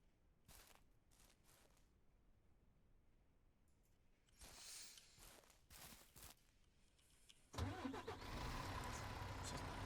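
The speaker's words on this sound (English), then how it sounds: "move this truck probably over to where that's going to go." A truck engine in the ranch-simulation game Ranch Simulator cranks and catches, then settles into a loud, steady idle, preceded by a few quieter clunks and thumps.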